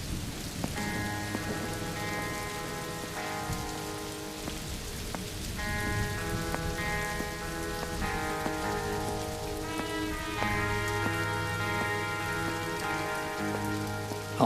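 Steady rain falls throughout, a dense continuous patter under sustained musical tones, with no voices.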